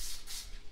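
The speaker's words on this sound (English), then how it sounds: "I'm gonna give it a little spray and get it ready" Cooking spray hisses onto a baking pan in two quick, close bursts, quiet and brief, with no talking.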